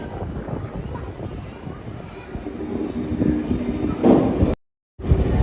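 A Paris Metro train rumbles along a platform, rising in level toward the end, with a brief dropout near the close; the rail noise sounds moderately near and steady.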